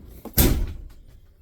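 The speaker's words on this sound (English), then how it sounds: "Let me shut this door for you." The door of a 2024 Tiffin Wayfarer 25RW Class C motorhome swings shut with one solid, close thud, preceded by a faint click and followed by a short fading rattle.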